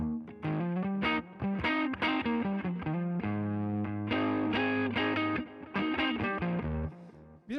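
Electric guitar through a Deluxe Reverb amp with a distorted, effects-laden tone, playing a rhythmic riff of chugging chords and sustained notes, loud and up close with brief pauses between phrases.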